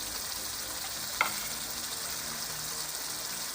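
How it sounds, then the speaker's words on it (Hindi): Chicken karahi frying with spices in a pan gives a steady, even hiss, quiet and close, with one brief clink near the middle and no voices. "अब इसको 10 मिनट के लिए भूनेंगे।"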